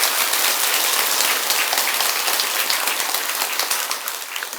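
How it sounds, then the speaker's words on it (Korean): Dense, loud applause from a large audience at a Buddhist dharma service for the monks, a steady patter of many hands that tapers off slightly toward the end. "이왕 치는 박수니까 스님들에게 박수 한 번 더 쳐주시기 바랍니다"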